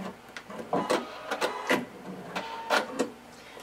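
A sewing machine backstitches a blazer seam in short, quick bursts of stitching, starting and stopping several times with brief gaps between runs, moderately close and without talk.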